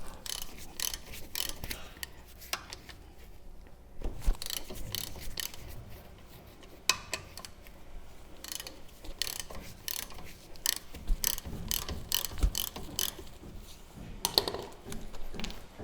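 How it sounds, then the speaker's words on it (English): A ratchet cracks loose the lower knuckle studs on an 80 Series Toyota Land Cruiser: close, rapid clicking strokes in repeated bursts with short pauses between them, and no talking. "We can come down here to the bottom and crack our lower knuckle studs loose."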